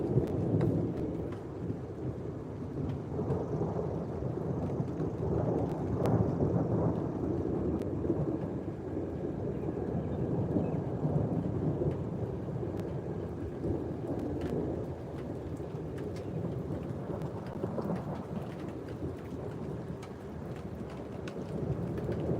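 A severe, stalled thunderstorm delivers continuous heavy rain and deep rolling thunder, with rumbles swelling and fading over twenty seconds and no talk.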